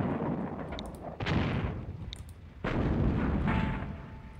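Artillery fire in the Sudden Strike strategy game, two heavy booming blasts a little over a second apart, each followed by a long rumbling decay, with faint battlefield noise between them and no voices.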